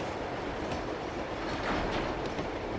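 A train rolls along continuously in the video game Uncharted 2, a dense steady rumble with faint clickety-clack, loud and close throughout with no talking.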